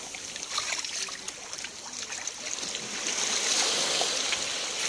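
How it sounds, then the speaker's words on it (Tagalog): Sea waves sloshing and washing against a fishing boat hull, a steady wet rush that swells a little louder toward the end. "May alon."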